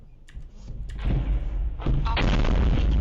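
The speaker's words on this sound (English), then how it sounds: "car in Kharkiv today narrowly avoiding a Grad MLRS barrage" Grad MLRS rocket artillery barrage in Kharkiv during wartime, heavy booming blasts and rumbling impacts rising to a sustained roar, recorded from a moving car amid faint background clatter.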